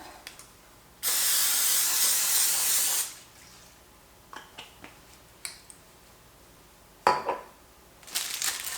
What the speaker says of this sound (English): Let's go ahead and spray our pan.